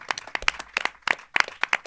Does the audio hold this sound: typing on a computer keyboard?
no